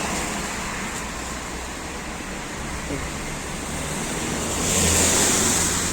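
A steady roar of passing cars fills the background, swelling louder near the end as a vehicle goes by close.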